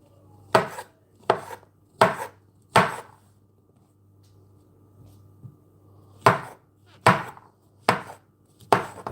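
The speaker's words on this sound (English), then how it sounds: "And if you notice when I'm chopping" Knife chopping ingredients for carbonara on a board, two runs of four sharp, evenly spaced loud chops separated by a quiet pause.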